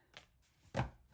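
A deck of self-care cards being shuffled by hand, giving two short, soft papery bursts separated by a pause, heard close and quiet with no talking.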